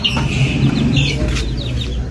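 Chickens and small chicks on a home coop clucking and cheeping close by, a busy continuous stream of short calls and chirps with no talk.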